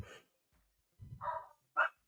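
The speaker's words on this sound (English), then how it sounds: "What are they even barking at?" Dogs barking indoors in short bursts: two or three muffled, fairly distant barks spaced irregularly, with quiet between them.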